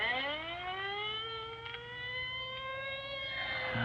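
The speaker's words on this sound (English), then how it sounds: "Well, there goes the ambulance." An ambulance siren wails at a moderate distance, its tone rising steadily, with no voices.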